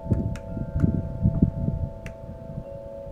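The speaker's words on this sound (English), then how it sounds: "You can probably hear the wind chimes in the background there." Light metallic chimes tinkle a few times at irregular intervals, with a steady hum and gusty low rumble of wind underneath.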